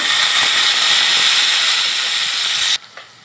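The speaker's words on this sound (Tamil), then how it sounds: "பூண்டு கருவேப்பிலையும் போட்டு நல்லா ஒரு 5 நிமிஷம் நல்லா வதக்கணும்" Garlic and curry leaves sizzle in oil in a pan for chilli pickle, a loud steady close frying hiss that cuts off abruptly near the end, leaving only faint clatter.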